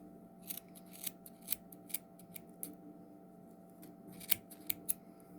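Scissors snip around the cut yarn loops of a small crocheted dragon toy, a quiet series of crisp, irregular clicks close by with no talking.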